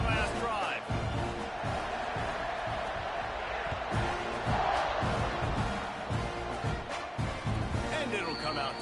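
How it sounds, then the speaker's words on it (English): A football stadium crowd at an AGS vs Texas A&M game roars and cheers continuously in a big, dense wash of noise, with a play-by-play announcer talking over it. "this crowd is feeling themselves after that last drive"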